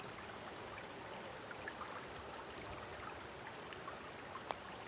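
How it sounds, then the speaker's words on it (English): A stream running beside a bushcraft camp, with a faint, steady outdoor wash of flowing water and a few tiny drips, heard alone. "I hear the water running"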